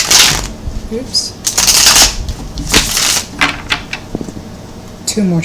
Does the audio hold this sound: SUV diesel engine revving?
no